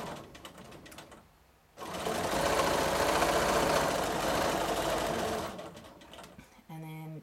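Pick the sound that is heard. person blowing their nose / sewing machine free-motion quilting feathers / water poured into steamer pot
sewing machine free-motion quilting feathers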